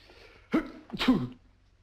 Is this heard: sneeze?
yes